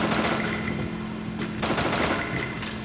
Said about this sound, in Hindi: चलो गाइस, हमने फायरिंग की पर उसको लगा नहीं।